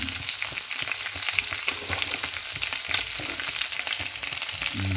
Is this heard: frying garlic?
yes